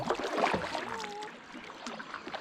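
A small boat is pushed off into the Buffalo River, running a little high, with close splashing and water sloshing against the hull, and brief voices underneath.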